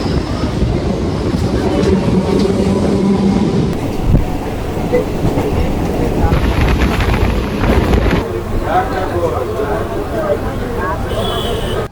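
A local train from Sealdah to Canning rumbles steadily and loudly throughout, with wind buffeting the microphone and voices talking over the clatter of the carriage.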